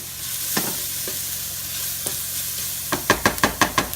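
Onions with dried basil sautéing in a pot for homemade meatball and rigatoni sauce, a steady sizzle under a few spoon scrapes, then a quick run of about six sharp stirring clacks near the end.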